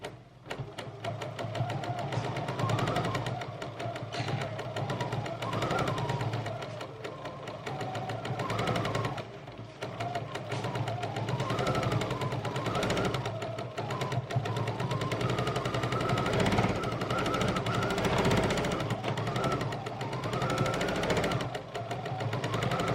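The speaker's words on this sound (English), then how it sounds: "beginner's guide to using the Bernina Stitch Regulator" A Bernina sewing machine with its stitch regulator runs steadily for over twenty seconds, a continuous mechanical whir with a rhythmic stitching pulse, close and even, with no speech.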